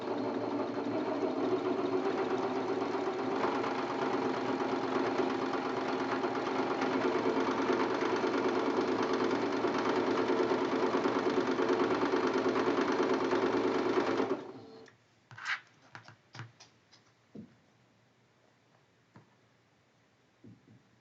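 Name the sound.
sewing machine sewing quilt block seams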